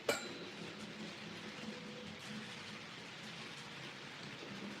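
Steady storm rain patters on a roof in a continuous faint wash, with a brief knock at the start and no voices.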